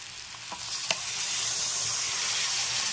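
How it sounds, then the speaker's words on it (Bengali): Water poured into a hot pan of sizzling lote dried fish curry with radish, potato and eggplant makes a quick splash and hiss, then the frying sizzle swells and carries on steadily. "এবার এর মধ্যে আমি দিয়ে দিচ্ছি জল।"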